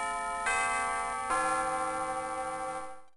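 A school bell chimes twice in the Megaman Battle Network video game, two bright electronic strikes less than a second apart, each leaving a long ringing tone that slowly fades out.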